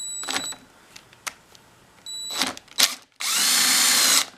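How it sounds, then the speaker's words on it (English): A power drill whirs in short bursts as it backs screws out of an Echo PB-500T backpack blower, ending in one longer, loud sustained spin, close and without talk. "Now let's take out the real screws."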